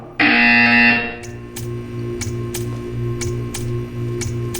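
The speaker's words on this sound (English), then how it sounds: "When you hear the buzzer, stare at the art." Buzzer in the Portal 2 video game sounding as a loud, harsh tone for nearly a second, followed by a steady hum with regular ticking clicks repeating about twice per second.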